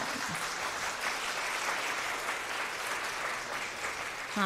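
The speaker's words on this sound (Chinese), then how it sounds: "请起立我们拍手" A church congregation claps together to welcome a new member at a Sunday service, continuous moderate applause from many hands in a room, heard slightly distant and unbroken.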